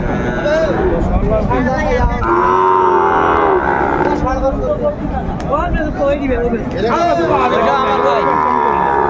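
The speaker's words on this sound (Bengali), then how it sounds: "সব ভাইয়ের গরু, সব সুন্দর সুস্থ সবল গরু" Sahiwal bull calves low at a busy cattle market in Dinajpur, their calls rising over a constant crowd din with several people talking nearby.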